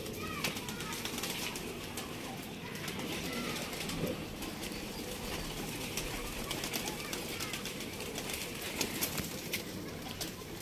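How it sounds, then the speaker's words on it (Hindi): Breeder pigeons coo softly while drinking water amid a busy background of rustling and flapping, with a voice talking intermittently over the flock. "सारे कबूतर पानी पी रहे हैं अभी"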